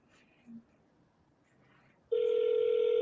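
A steady, loud ringback tone starts suddenly after a quiet stretch and holds unbroken to the end during an outgoing phone call to a ranch.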